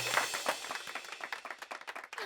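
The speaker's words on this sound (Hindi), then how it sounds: "तालियां!" An audience on a Hindi TV drama set applauds during a husbands-and-wives game event, a dense, fairly soft patter of many hands clapping continuously throughout.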